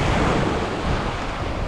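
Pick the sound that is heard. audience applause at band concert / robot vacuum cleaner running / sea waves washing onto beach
sea waves washing onto beach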